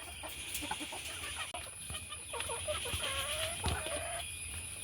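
Several free-range country hens cluck and murmur nearby over a faint background hum, with a brief sharp knock partway through.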